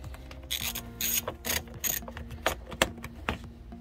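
A ratchet works loose the bolts on a BMW F10 5 Series headlight, giving quick bursts of clicking pawl strokes with small metallic rattles between them, close and fairly quiet, with no talking.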